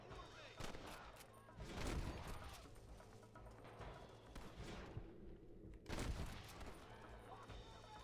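Gunfire in Red Dead Redemption, with several loud shots and bursts ringing out over a steady game background, with a brief voice mixed in.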